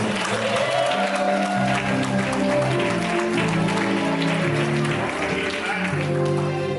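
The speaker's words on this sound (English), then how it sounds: "Let's give God a hand clap of praise" Applause from a church congregation rises and continues, with music and voices playing underneath the clapping.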